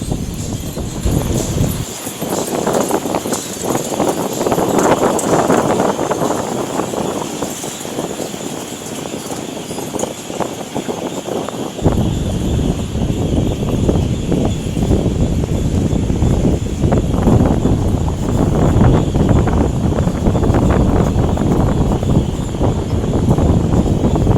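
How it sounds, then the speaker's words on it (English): Wind buffets and rumbles steadily against a handheld microphone on a downtown walk in Grand Rapids near the Gillette Bridge, loud and continuous throughout, with city noise blended beneath it. "I'm hoping you can hear me over the wind"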